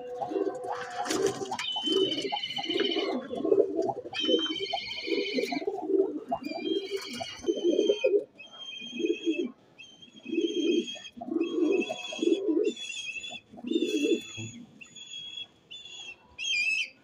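Pigeons of the Teddy Golden breed coo in repeated low, throaty bursts, with bright whistled calls running over them throughout, fairly close and steady, in Lahore.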